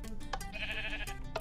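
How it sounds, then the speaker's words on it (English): A single sheep bleats in a Minecraft map, one wavering, nasal cry in the middle, close and clear against a low steady hum. "I heard a sheep"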